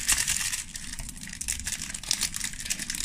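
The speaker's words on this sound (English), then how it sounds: "Will I actually be able to open this packet" A Japanese Pokémon card pack is torn and crinkled open, its foil wrapper giving close, uneven rustling and crackling throughout with no talk.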